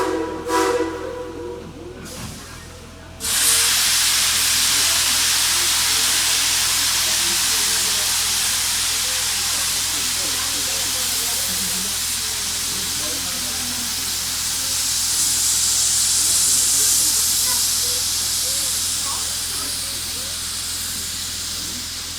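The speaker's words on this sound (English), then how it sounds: "Casey Jones, let's get the train up to Fort Boone," Tweetsie Railroad steam locomotive #190 lets off a loud, steady hiss of steam that bursts in after a brief quieter start and holds close and constant to the end.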